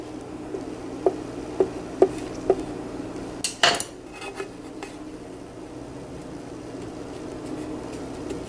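Rolled puri dough for gujiya is cut on a hard surface: a few sharp, evenly spaced taps from the knife, then a louder clatter, and a quiet stretch with faint background hum.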